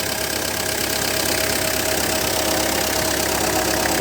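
A 2000 Galloper 4WD diesel with manual transmission idles with its engine bay open, giving a steady, loud, even mechanical clatter and hum that runs unbroken with no voices.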